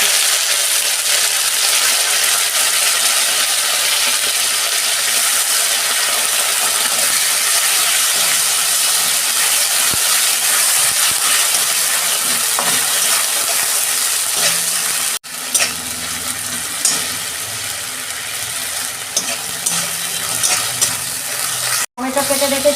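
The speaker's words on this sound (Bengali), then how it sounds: "আমি 1 চামচ আদা রসুন বাটা দিয়ে দিচ্ছি।" Ginger-garlic paste sizzling in a frying pan for Bengali pomfret curry, a loud continuous hiss and crackle with stirring scrapes, and a few sharp clacks in the latter half.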